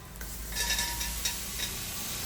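Chopped tomatoes dropped into onions and ginger garlic paste frying in a pan for prawn masala, a steady close sizzle with a few scraping stirs.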